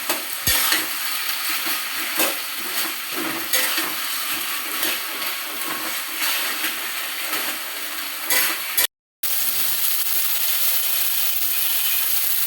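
Eggplant cooked in oil with chillies, broken fish heads mixed in, stirred in a pan; a steady scraping, sizzling rub runs throughout, loud and close, with a brief dropout near the end.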